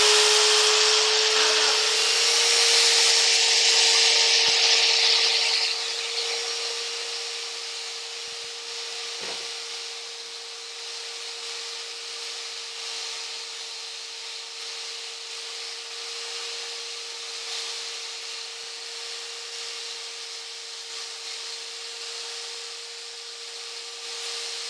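A table saw cuts wood for a drawer, a loud, steady whining drone that is strongest at first, then settles into a sustained hum with light rattles and scraping as the blade runs.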